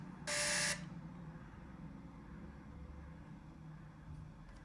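An FPV RC crawler built on an SCX-10 chassis powers up its electronics, giving one short, bright electronic beep-buzz near the start, followed by a quiet low hum and faint background noise.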